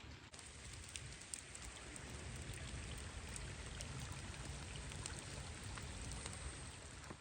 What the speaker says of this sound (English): Now it is time for us to trek out back into the rain